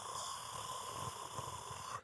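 A person's voice imitates snoring: rough, rattling inhaled snores repeat in a slow rhythm for about two seconds, close and fairly quiet, then cut off abruptly.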